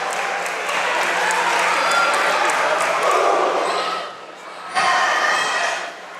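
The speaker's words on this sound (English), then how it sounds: "Not sure if you can hear the crowd, but they're roaring with each point." Crowd noise fills a high school girls' volleyball tournament final between Knott County Central and a rival, a broad steady roar with squeaks and thuds from the court, dipping briefly before surging again.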